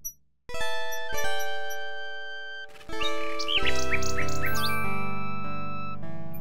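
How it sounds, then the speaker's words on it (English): A wind-up tin mechanical nightingale from the 1992 Sierra game King's Quest VI sings in synthesized chiming tones over sustained MIDI-style music, with a run of quick bright warbling chirps in the middle, loud and alone without speech. "The mechanical nightingale sings a sweet,"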